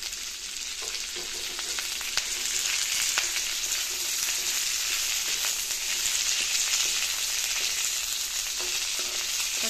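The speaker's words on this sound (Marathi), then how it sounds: "कढीपत्ता मंद गॅसवर तेलात परतवायचा आहे" Curry leaves frying in a kadhai of oil over a low flame, a steady dense sizzle with small crackles running throughout, close and continuous without talk.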